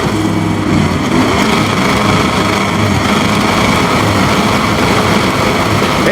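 MotoGP motorcycles launching at full throttle off the start at Silverstone, a loud, dense and continuous engine roar from many bikes together that holds steady throughout.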